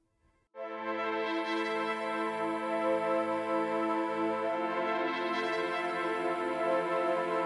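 Augmented Voices synth from Arturia Analog Lab swells in over pads for a melodic techno breakdown, a sustained, rich choral texture with a pulsing low line underneath, steady and alone.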